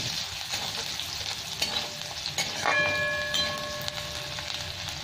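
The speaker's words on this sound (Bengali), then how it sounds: "এই পেঁয়াজটা একটু ভেজে নেবো লাল লাল করে" Chopped onion fries in hot oil with a steady, close sizzle, broken by scraping stirs of a spatula in the pan and a brief metallic ringing scrape; no one speaks.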